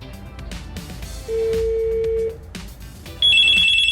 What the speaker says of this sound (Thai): โทรศัพท์มีการดังขึ้น